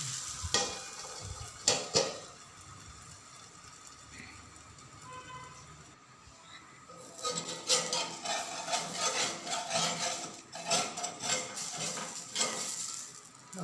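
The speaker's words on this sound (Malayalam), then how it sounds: "നല്ല ചൂടായ ദോശക്കല്ലാണ് ഓട്ട ഓട്ടയായിട്ടുള്ള ദോശ നമുക്ക് കിട്ടുന്നുണ്ട്" Rice dosa batter sizzles on a very hot griddle, with bursts of frying crackle, scraping and tapping against the pan, a quieter stretch in the middle, then a louder, sustained sizzle.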